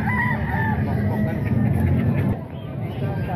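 A Caribbean gold rooster crows at a busy Calumpit market tiangge, its strained call rising over steady crowd chatter and nearby voices.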